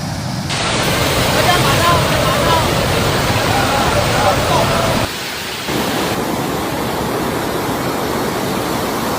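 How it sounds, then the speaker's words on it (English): Heavy typhoon rain and the overflowing Mataan Creek, a dense, roaring wash of rushing water and downpour filling the whole scene, steady and loud with a brief dip partway through. "Heavy rain from Super Typhoon Ragasa caused Mataan Creek to overflow."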